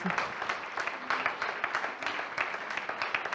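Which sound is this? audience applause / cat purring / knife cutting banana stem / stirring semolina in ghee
audience applause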